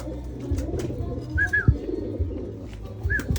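Pigeons coo softly close by in a loft, with short rounded calls repeating over a low murmur of background noise.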